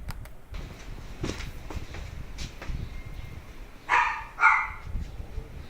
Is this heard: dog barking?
yes